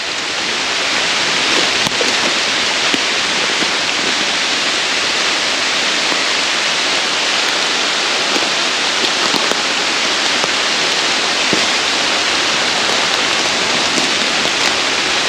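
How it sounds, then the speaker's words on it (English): Heavy rain pours down steadily through woodland beside an old plantation cemetery, a dense, constant hiss with scattered drip and patter accents, loud and close throughout with no talk. "Might know it would start raining even harder."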